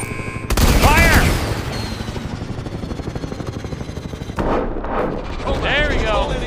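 Gunfire and heavy artillery in the futuristic shooter Call of Duty: Advanced Warfare. Loud, dense, continuous booming and rattling blasts fill the whole stretch, swelling into a stronger burst near the end.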